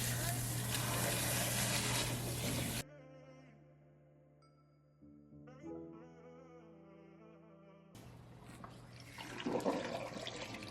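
Salon shower water runs over curly natural hair during a wash at a natural-hair salon, a steady rushing hiss at the start and again at the end, with a quieter tonal, music-like stretch between.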